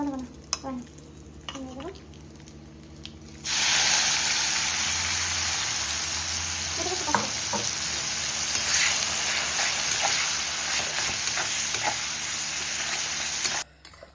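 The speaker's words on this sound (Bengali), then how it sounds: "পেঁয়াজগুলো কিন্তু খুব ভালো করে ভাজতে হবে।" Onions frying in a pan for a hill-style chicken dish: steady loud sizzling that starts abruptly and holds for about ten seconds, with occasional stirring scrapes, then cuts off.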